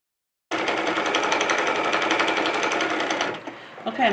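A sewing machine stitches the edge of a fabric foxtail bag, a fast, even mechanical chatter running loud and close for about three seconds before stopping, followed by a brief rustle.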